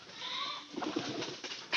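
Domestic pigeons at a household loft give a soft, brief cooing amid faint background noise, heard close and low for a moment.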